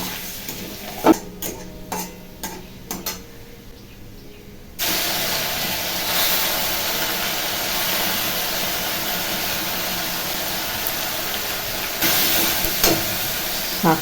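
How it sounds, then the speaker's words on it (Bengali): Garlic and chili dropped into hot oil in a wok set off a sudden loud, steady sizzle and hiss that continues to the end, after a few sharp clinks and stirring knocks. "তেল গরমও হয়ে গেছে, রসুন আর লঙ্কা ফোড়ন দিয়ে দিলাম।"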